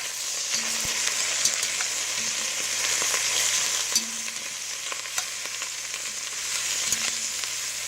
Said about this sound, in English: we're going to be browning the pork on both sides